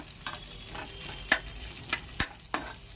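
Green chillies, onion, peanuts, ginger and dried red chillies sizzle steadily in a hot pan, with a few sharp scraping clinks of a spoon stirring at irregular intervals; close and fairly quiet, no talk.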